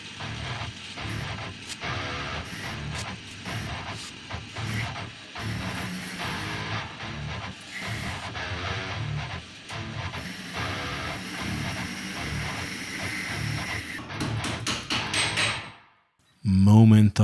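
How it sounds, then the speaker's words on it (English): A drill spins the compound slide of a modified hobby lathe with a continuous, loud mechanical whir carrying ratcheting clicks and gear chatter for about sixteen seconds. It then cuts off abruptly, followed by a brief thump. "Using a drill to fit the compound isn't just faster, smoother and more comfortable"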